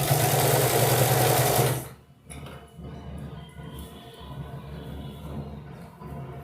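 A sewing machine runs in a loud continuous whir while stitching folded cloth for a skirt, then stops abruptly, leaving quieter clicks and fabric handling close by.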